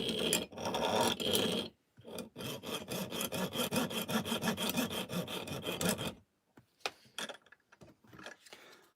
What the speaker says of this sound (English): Hacksaw's not playing ball.